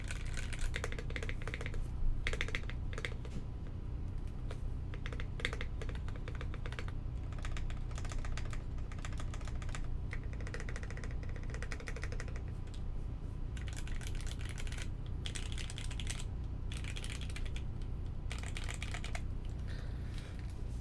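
Fast, steady typing on a Key65 mechanical keyboard fitted with unlubed switches gives close, crisp clacks in an uneven rhythm, with a louder bottom-out thock here and there.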